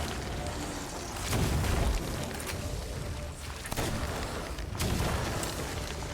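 Ship cannons firing in the Sea of Thieves pirate game, with three heavy booms spaced a couple of seconds apart over a constant loud rumble of sea and wind.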